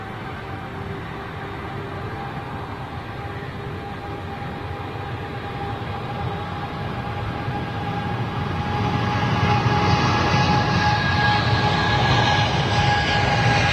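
A BOAC Boeing 747 jet takes off with a broad roaring rumble and steady whining engine tones that swell louder over the final seconds.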